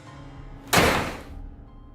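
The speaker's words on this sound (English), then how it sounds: "he returns inside and the door slams shut" A door slams shut once with a sharp, loud bang that rings out and fades over about half a second, against a quiet background.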